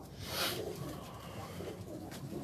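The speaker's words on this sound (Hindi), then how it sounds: "ये टाली वाला दूसरा कबूतर है जी।" Pigeon, a second pigeon of the 'tali' variety, cooing on a rooftop loft in Faisalabad, a soft, low coo near the start against a steady outdoor background hiss, with no talk.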